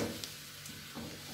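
Water spinach stir-frying in a pan gives a soft, steady sizzle with faint stirring touches, close but low in level and free of speech.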